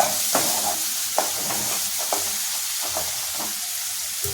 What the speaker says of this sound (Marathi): थोडं मीठ टाकायचं आणि परतवून घ्यायचं